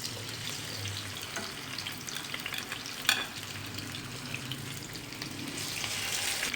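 Marinated fish pieces frying in hot oil over a medium-low flame, a constant close sizzle and hiss with one brief clatter partway through, no voices.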